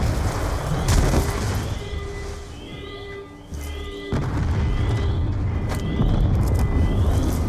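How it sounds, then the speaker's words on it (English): Explosions boom through a facility in the video game Call of Duty: Black Ops II, heavy blasts and gunfire-like bursts over a rumbling game soundscape, with a brief quieter dip before the noise surges back. "We're monitoring multiple explosions across the facility."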